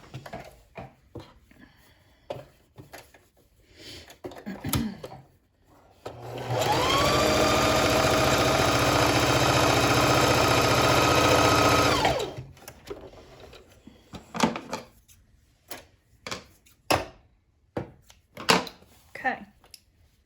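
A sewing machine runs in one continuous burst of about six seconds, stitching one side of a fabric mask shut, between stretches of quiet speech.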